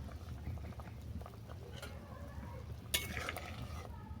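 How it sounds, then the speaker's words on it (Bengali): Spicy curry gravy with fried shrimp and fritters bubbles and simmers in a pan, with a steady soft sizzle and occasional stirring scrapes, close up and with no talking. "ঝোলটা ফুটে গেছে।"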